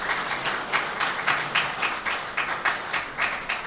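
An audience claps at a MAGFest 2024 panel on Halo music: a moderate, evenly pulsing burst of applause with a fairly regular rhythm, heard from within the room and not very loud.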